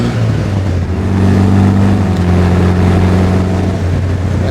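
A warmed-up 1956 Austin Healey 100M, overdrive-equipped, cruising on an open road: a steady, loud low engine drone with even harmonics, constant and close, with no talk over it.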